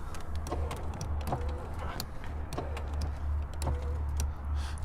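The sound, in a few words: car power window motor, broken cable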